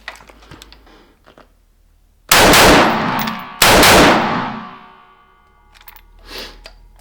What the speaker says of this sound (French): Rafale de 3.